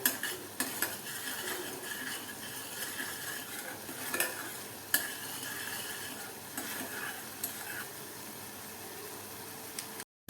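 Tomato chutney with Kashmiri red chilli powder cooks in a pan with a soft, even sizzle, punctuated by occasional clinks and scrapes of a spoon, fairly quiet throughout.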